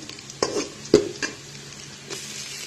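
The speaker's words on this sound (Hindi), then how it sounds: "तो हमें इसको तकरीबन 1 मिनट के लिए इसको फ्राई करना है" Crushed garlic sizzles softly in a hot pan, with a few scraping stirs and clinks of a utensil over a steady low fry.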